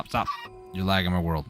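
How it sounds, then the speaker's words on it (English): Small baby chicken clucking in Minecraft Sky Factory 4, a few short high chirps and clucks close by, mixed in with a player talking over them. "Sorry, baby chicken. Stop."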